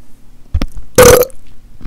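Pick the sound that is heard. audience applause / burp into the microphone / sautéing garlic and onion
burp into the microphone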